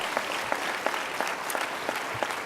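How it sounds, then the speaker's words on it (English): Audience at a national convention awards ceremony breaks into steady applause, a continuous wash of many hands clapping at moderate distance with no voices on top. "Let's give them another big round of applause."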